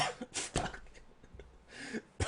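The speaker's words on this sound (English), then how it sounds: "That was coughing on air." A person coughs several times in short, harsh bursts close to a microphone, with quiet gaps between them and a final brief cough at the end.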